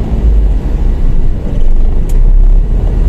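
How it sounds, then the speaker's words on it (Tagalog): Road traffic with passing cars makes a close, continuous low rumble of engines and tyres that swells and eases slightly, with no voices over it. "Oh, di ba? Traffic, di ba?"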